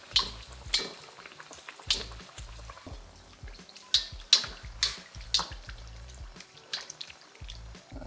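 Fry dumplings, a Jamaican fried bake dough, cooking in hot oil in a pan give a steady bubbling crackle with sharp pops and spits recurring every second or so, close and alone.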